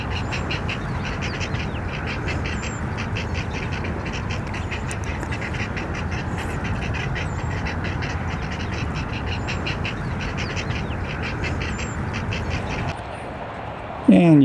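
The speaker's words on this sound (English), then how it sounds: "I can hear the cackles of young herons." Steady chorus of harsh, rhythmic cackling from young great blue herons over a constant wash of outdoor noise, the calls repeating throughout and fairly far off, on a spring morning.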